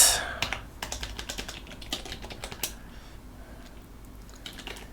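Rapid clicking of a computer keyboard as a sudo command is typed, close and fairly quiet, with uneven bursts of keystrokes followed by a few pauses and no talking.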